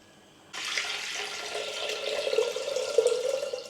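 Rice-rinsing water from a fourth wash poured into a pot while cooking Pongal. After half a second of quiet, a close, steady splashing pour starts and runs on with no talking.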